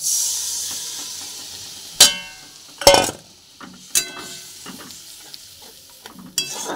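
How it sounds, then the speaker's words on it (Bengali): Stale dal being stirred in a hot frying pan: a soft steady sizzle broken by several sharp scraping clatters of the spoon against the pan, close and loud, with no talking. "এইটা দিয়ে আবার একবার ভালো করে নেড়ে নেব।"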